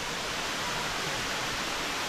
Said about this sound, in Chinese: 这就是那个瀑布